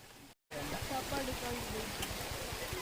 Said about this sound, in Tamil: வந்தால் கொஞ்சமாக மழை பெஞ்சிட்ருக்கு.